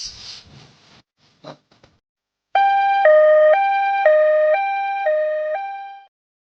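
A two-tone ambulance siren starts abruptly and alternates loud, steady high-low tones for several seconds, after a few faint scattered noises.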